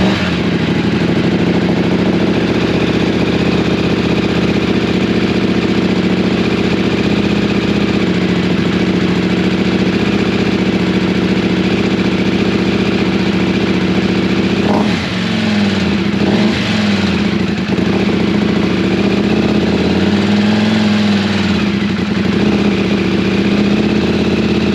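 A KTM 790 motorcycle engine fitted with a rally intake runs at a loud, steady idle throughout, with a few brief revs and wobbles near the end.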